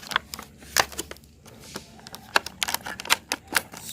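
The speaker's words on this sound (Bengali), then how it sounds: "স্ট্রবেরিটা খুলছি বন্ধুরা" A packet of strawberries being opened, with crisp plastic crinkles and sharp clicks in an irregular rhythm, close and fairly quiet.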